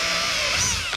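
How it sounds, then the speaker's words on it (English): A power drill bores a hole for a mud flap install, its steady high whine running loud and close for a second before it cuts off abruptly. "drill one hole"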